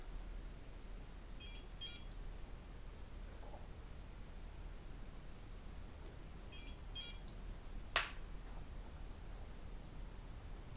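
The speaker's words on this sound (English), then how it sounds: "I wait for the beeps before I do a new pass" Two short pairs of faint electronic beeps from a handheld microcurrent facial device, a few seconds apart, over a quiet hiss, with a brief sharp click near the end.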